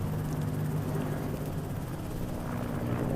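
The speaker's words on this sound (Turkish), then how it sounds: "Helikopterlere bakmayın." Helicopter in a Turkish military drama scene, a steady close rotor thrum and engine roar filling the whole moment with no voices over it.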